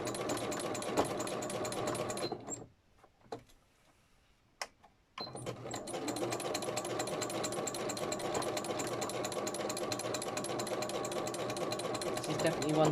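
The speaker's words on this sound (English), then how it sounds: "I do it because I've got a sewing machine" A sewing machine stitches a fabric journal cover with a close, fast, rhythmic whirring clatter. It stops for a few seconds midway, then resumes steadily.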